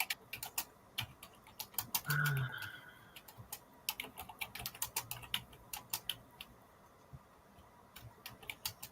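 Irregular bursts of crisp, close keystrokes on a computer keyboard while listings are prepared for resale, with a short pause and a brief tonal murmur early on.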